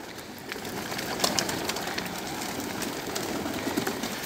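Pigeons at a loft during Sunday bathing after training, with soft cooing and scattered wing flutters and splashes over a steady outdoor background hiss, moderately close.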